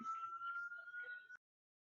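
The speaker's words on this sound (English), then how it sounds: "ambulance just passed by" An ambulance siren passing by, picked up faintly through someone's voice-call microphone: a single steady, high wailing tone with murmured voices underneath, cut off abruptly after about a second.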